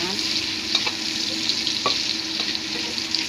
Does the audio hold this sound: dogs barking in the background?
no